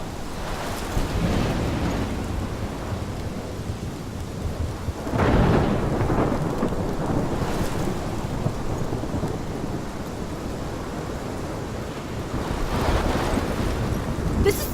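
Heavy rain pours continuously in a thunderstorm in the video game Life is Strange, with deep rumbles of thunder rolling in several times and rising over the downpour.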